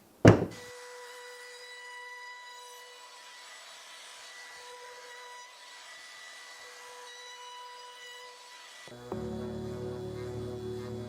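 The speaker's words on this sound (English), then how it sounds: "that's enough sanding" A wooden wheel is sanded to a round-over with a steady, whirring power tool that runs close and continuously for several seconds after a sharp knock, then shifts to a lower, rougher grind.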